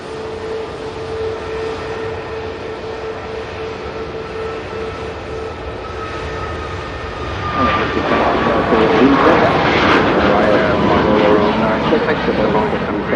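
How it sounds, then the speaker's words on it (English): Ryanair Boeing 737 Max airliner departing an airport, a steady jet roar that swells louder midway and stays strong as the plane climbs away, with a steady background drone throughout. "Very smooth departure there from the Ryanair Max"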